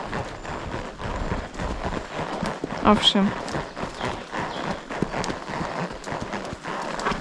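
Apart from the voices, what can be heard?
young horse walking, hooves clip-clopping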